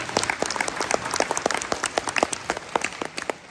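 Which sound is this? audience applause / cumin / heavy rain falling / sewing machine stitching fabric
audience applause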